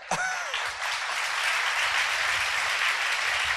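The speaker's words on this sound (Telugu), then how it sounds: "బంగారు చప్పట్ల సమర్పణ దేవునికి." A church congregation claps together in sustained, dense applause at close range, steady and loud throughout, with a brief vocal cry at the very start.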